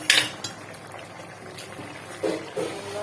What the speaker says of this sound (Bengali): কিছুক্ষণ ফুটিয়ে নেব মিনিট পাঁচে